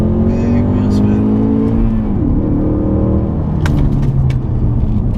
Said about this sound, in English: automatic start. Press OK to begin. Big wheel spin.